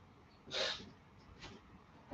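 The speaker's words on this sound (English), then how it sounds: "I have to blow my nose" During a quiet yoga class, a person gives one brief, breathy nose blow, followed by a softer second puff, both faint and close.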